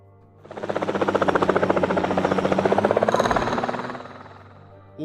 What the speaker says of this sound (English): Why was there an helicopter sound from Marble on stream?